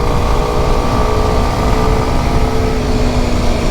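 Kawasaki 125cc motorcycle engine upshifting while riding through bends, a loud, continuous droning engine note with wind rush, steady and close throughout.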